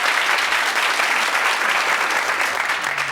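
A live studio crowd at a comedy wrestling bit breaks into loud, sustained applause with some cheering, a dense wall of clapping throughout.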